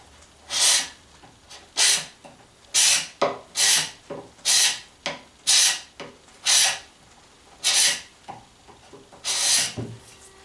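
A wood chisel reworked into a scraper is drawn across a wooden surface to flatten it, giving about a dozen loud, close, rasping strokes in a steady back-and-forth rhythm.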